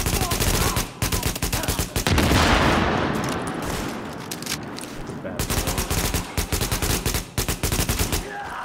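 Dense, rapid gunfire from The Division, with sustained automatic bursts and volleys that are loud and close, briefly dropping away near the start before resuming in choppy bursts.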